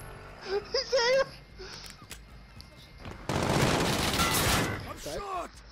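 Gunfire in the Warzone video game crackles as a dense burst of rapid shots lasting a couple of seconds, with people's voices heard before and after.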